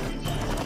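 Hooves clip-clop with a short whinny from a horse in the Western video game Six Guns, a brief, steady burst of game sound effects heard close and fairly loud.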